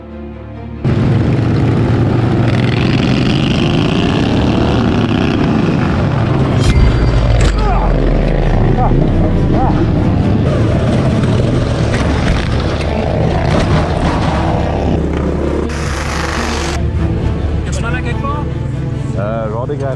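Small racing lawn mower engines roar together at a motorsport event, a loud continuous buzzing drone that swells as they rev and pull away, with an announcer's voice and crowd noise mixed in.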